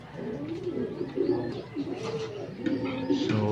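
Racing pigeons coo softly and repeatedly close by after landing at the loft, low rolling calls overlapping with light background rustle.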